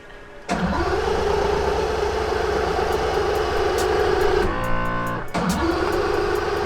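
An Aston Martin Vulcan race car cranks and fires up at once, its engine settling into a loud, steady, close idle, then dropping briefly into a rattling stutter before picking back up.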